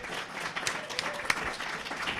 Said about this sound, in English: giving them another heartfelt round of applause